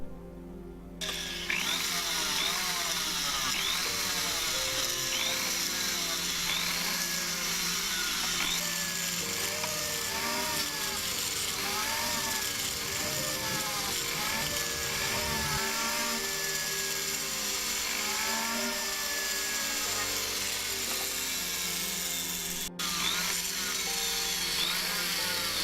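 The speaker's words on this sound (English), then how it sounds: "After sanding, we can polish the ring up." A power tool spins steadily while polishing a cast silver ring, a continuous close whine with shifting pitch as the ring is pressed against it, running for about twenty-five seconds.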